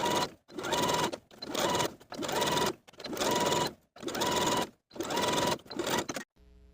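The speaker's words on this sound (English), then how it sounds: "I'm just going to use a narrow zigzag stitch." A sewing machine runs a narrow zigzag stretch stitch along a pants hem in seven or so steady bursts of whirring and clattering, each separated by brief pauses, close and fairly quiet.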